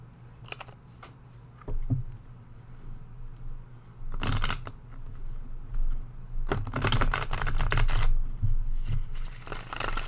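A brand-new, stiff deck of playing cards is shuffled up close in several riffles, each a sharp flurry of rapid flicking, with quieter handling between bursts.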